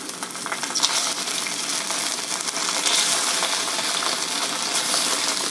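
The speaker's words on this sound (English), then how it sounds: "So first I'm going to grill the rice rolls." Homemade rice rolls grill in a hot pan, giving a steady, close sizzle and crackle that runs without a break from start to end.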